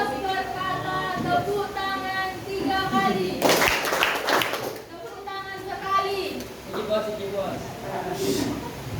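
Children in a classroom game clap their hands in a short burst of quick claps under a teacher's spoken instructions, loud and close, with voices before and after.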